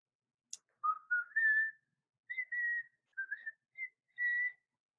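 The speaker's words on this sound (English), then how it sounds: "Sorry, I like to whistle a lot." A person whistles a short, wandering tune up close, a string of clear sustained notes broken by brief pauses, with no talking.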